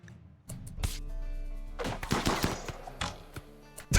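Gunfire in the video game RimWorld: a rapid series of sharp shots and bursts, some clustered like a volley, with dull thumps between, fairly close and loud throughout.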